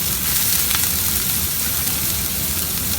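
Onion dropped into a pan of frying garlic gives a steady, loud, dense sizzle that holds evenly throughout with no pauses and no talking.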